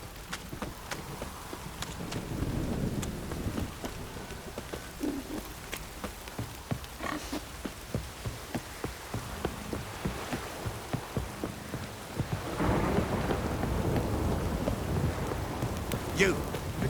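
Rain patters steadily across the scene in the video game The Witcher 3: Wild Hunt, a dense close hiss with scattered drop ticks, and a low rumble of thunder swells near the end.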